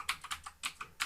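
Keys tapped on a computer keyboard while entering chat text, five or six distinct close clicks in quick irregular succession over a soft hum.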